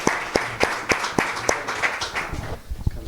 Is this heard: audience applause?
yes